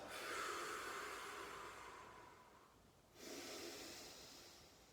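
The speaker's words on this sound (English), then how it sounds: "Breathing in through the nose and out through the mouth." A person breathes in slowly through the nose, pauses, then breathes out through the mouth during a morning breathwork and movement session, close and soft with no talk.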